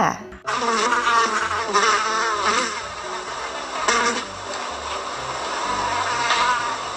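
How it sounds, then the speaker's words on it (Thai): A housefly buzzes close and continuously, its drone wavering in pitch as it moves around, with no other sounds over it. "เสียงแมลงวันนะคะ"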